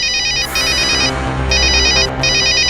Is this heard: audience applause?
no